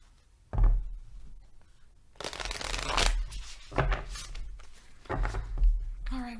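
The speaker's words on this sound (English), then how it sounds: "One more shuffle." A deck of cards is shuffled up close in several quick riffles and bridges, each a crisp flurry of flicking snaps separated by short pauses, ending with a muffled tap of the squared deck.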